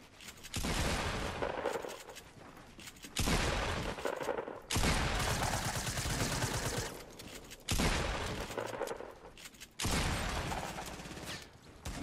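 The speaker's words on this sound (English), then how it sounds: "We're fighting these guys who just shot at us." Bursts of rapid gunfire crackle loudly in a battle royale game, coming in several long volleys separated by short quieter gaps.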